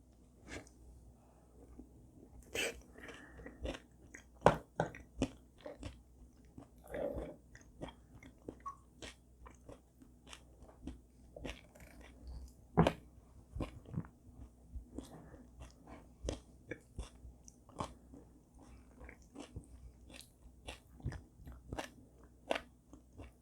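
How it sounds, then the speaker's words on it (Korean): Porridge of bean sprouts and carrot being eaten, along with chewing of steamed zucchini and eggplant, gives close, repeated crunchy bites and soft mouth sounds in an irregular rhythm without any talk. "이제 죽을 먹겠습니다"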